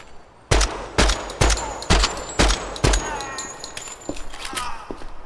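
Six evenly spaced, sharp suppressed gunshots from the Venator rifle, fitted with a red dot scope and integrated suppressor, in the video game Project Silverfish, followed by quieter scattered clicks and rattles.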